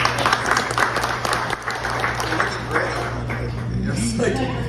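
Applause at a restaurant's 33rd anniversary celebration, a crowd clapping in a broad, fairly loud burst over a constant low hum, with a few sharp clinks and some voices mixed in.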